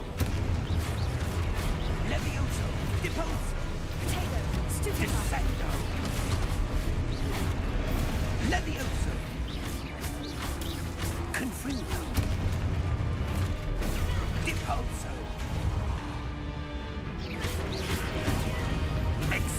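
Spell explosions from the Hogwarts Legacy video game form a dense, continuous stretch of booms, crashes and whooshes, with shouted character voices mixed into the loud combat din.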